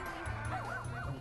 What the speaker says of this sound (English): Oh my God, the dog is pissed.